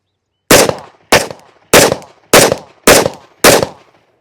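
Six loud, sharp handgun shots from a .460 Rowland firing 230-grain magnum loads through a compensator, at a steady rhythm about half a second apart with a short decay after each and silence between them.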